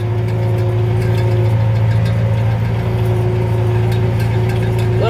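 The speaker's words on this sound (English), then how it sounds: "third gear on the tractor right now" A tractor engine runs steadily in second range, third gear, while pulling a manure spreader on a farm, a loud, constant drone with no speech.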